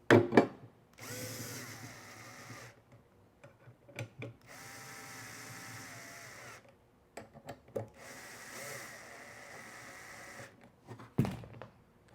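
A power drill snugs bolts on a swivel loading ramp plate for a Ford Transit, in several separate bursts of whirring, each a few seconds long, with clicks and handling clatter in the gaps.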